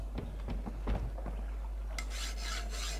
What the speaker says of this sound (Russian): Ну давай, пили уже.